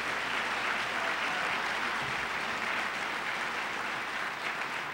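A large audience at a conservative political summit applauds steadily, a dense continuous wash of clapping that holds at an even level throughout without pause.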